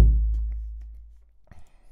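A single deep, booming drum hit from the Berserkr tribal punk folk drums "hits main" preset rings out alone and decays slowly over about a second and a half, followed by faint shuffling.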